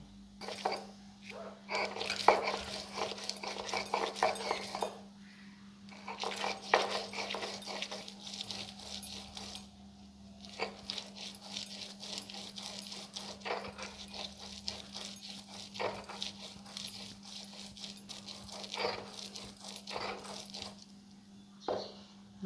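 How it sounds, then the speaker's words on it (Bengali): Prawn heads are ground by hand on a shil-nora grinding stone, making rhythmic scraping strokes in bursts with short pauses over a steady low hum. "আমি শিলনোড়ায় বাটছি"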